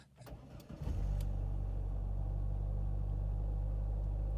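A ZAZ Sens car engine, after standing a day, cranks briefly and catches, then settles into a steady, loud, low idle that continues to the end.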